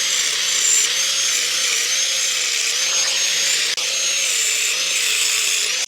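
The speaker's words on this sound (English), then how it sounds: "I'm just going to get straight on with the disc cutter with a fine blade on it." A handheld disc cutter with a fine blade whines steadily at high pitch while trimming 5mm off a bicycle headset part, loud and close, with one brief dip near the end.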